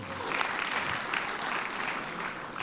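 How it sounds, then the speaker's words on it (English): A conference audience at ETHDubai 2022 claps in a steady, moderately loud round of applause that fills the hall from start to finish. "So give technology a big round of applause right now."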